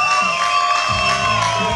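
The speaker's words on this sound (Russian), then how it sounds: "Ваши аплодисменты." An outdoor audience at a bike festival award ceremony claps and cheers in a short, loud burst of crowd noise, with sustained musical tones running underneath.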